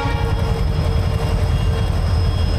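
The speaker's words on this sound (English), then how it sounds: "So many trains, huh?" Trains passing along a jungle route in India, a loud continuous low rumble of rolling wagons filling the scene steadily without a break.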